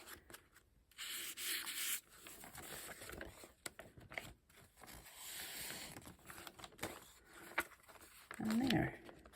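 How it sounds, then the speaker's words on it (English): A sheet of paper is rubbed over a gelli printing plate to lift off leftover paint, producing soft, intermittent scraping and rubbing strokes, faint and close. "That helps clean off your jelly plate."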